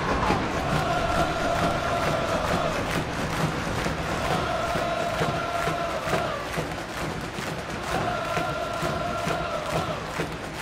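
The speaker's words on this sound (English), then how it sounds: "the crowd are more than a little excited here" Excited stadium crowd at a USWNT versus Portugal women's soccer match, a dense sustained roar with rhythmic chanting swells repeating, loud and continuous throughout.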